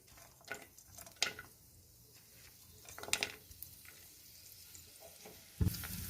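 Coconut with coriander seed, Kashmiri chilli and fennel sautés in oil in a pan, a quiet sizzle under occasional stirring scrapes and light taps against the pan, with no talking.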